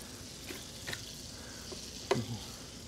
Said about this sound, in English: Mix all this up in your bowl